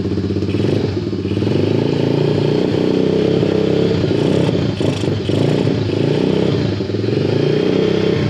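A cold John Deere engine idles just after starting, a loud, steady, close rumble with a slight clatter that runs unbroken throughout and has no voices over it.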